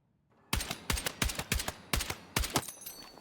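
A carbine fires in the video game Battlefield 6, several short bursts of sharp, loud shots in quick succession, each crack trailing briefly, with no talking.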